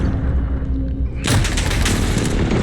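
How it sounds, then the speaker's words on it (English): A precision airstrike explodes in a military shooter video game: a sudden, loud, sustained blast that erupts partway through and rumbles on over a dense battle background. "Enemy precision airstrike inbound."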